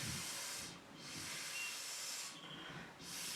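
Breath is blown through acrylic pour paint treated with cell activator, producing soft airy hisses in three bursts separated by short pauses, close but quiet.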